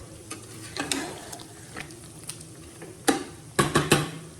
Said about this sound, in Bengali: অল্প করে জল দিয়ে ঢাকা চাপা দিয়ে রান্না করছি